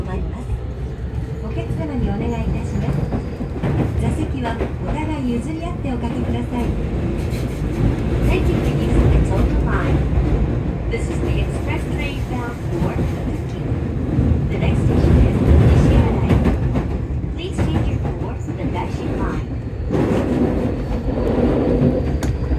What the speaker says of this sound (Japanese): 電車は荒川を渡って隣の駅小杉駅を通過しようとするところ